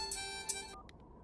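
A phone ringtone plays as a steady electronic melody for under a second, then cuts off, leaving a few faint high chirps.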